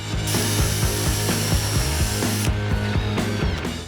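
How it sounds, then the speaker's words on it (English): A power drill bores pilot holes into wood for a loft bed frame with a loud, grinding whir, its pitch wavering rhythmically as the bit bites, running continuously with no voices. "to help reduce any cracking, we're going to pre-drill each hole"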